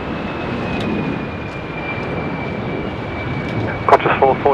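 Qantas airliner at Sydney Airport, a steady distant jet engine roar with a thin high whine running through it, and a short burst of voice chatter near the end.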